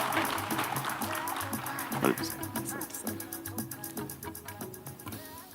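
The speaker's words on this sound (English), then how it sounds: "with the loudest round of applause, can we welcome Victor to the stage?" Applause from a conference audience greets a speaker walking to the stage, steady clapping mixed with cheers and a loud whoop near the middle before fading under crowd noise.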